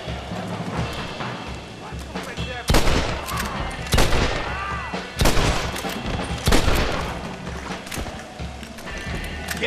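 Gunfire in Red Dead Redemption: loud, sharp shots cracking at irregular intervals, several heavy blasts spaced a second or so apart over a busy battle bed.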